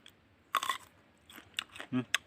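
Jujube fruit bitten and chewed close to the mic, a couple of crisp crunchy bites followed by wet chewing bursts, with brief vocal murmurs in between.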